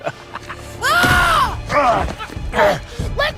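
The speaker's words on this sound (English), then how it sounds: "when Kratos shoves Atreus, he screams in pain from his side" Atreus, a boy character from the video game God of War, screaming in pain after being shoved, loud strained vocal cries in several bursts with pitch swooping and groaning, close and prominent.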